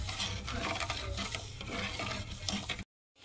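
Sugar syrup for gulab jamun stirred in a pan over a high flame, with a steady scraping and bubbling texture that runs continuously and close, then cuts to silence near the end.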